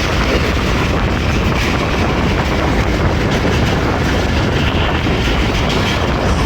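The Hazara Express rushes through a station as a loud, continuous roar of rolling wagons with a faint clickety-clack and wind buffeting the microphone.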